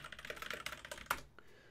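Quick, faint keystrokes patter on a computer keyboard in an uneven burst while text is edited in a task-tracking app, then trail off into a few isolated taps.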